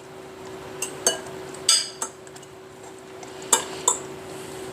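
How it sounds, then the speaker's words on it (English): A utensil stirs shrimp in buttermilk in a bowl, giving scattered light clinks and taps against the bowl over a quiet room with a faint steady tone. "just stir this around and get the buttermilk all over on both sides"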